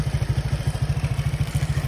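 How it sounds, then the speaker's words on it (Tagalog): A motorcycle engine idles while warming up in a repair shop, a steady, fast, low thumping pulse close by, with no talking. "Pinapainit lang natin yung motor ni boss para mamaya ay matesting na."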